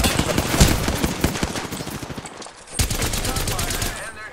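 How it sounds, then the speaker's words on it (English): Rapid bursts of gunfire from a squad-based shooter battle, dense and continuous over several seconds with a brief lull before the shooting resumes, close and loud, with game voice callouts mixed in. "Shot fired, and they're hitting me."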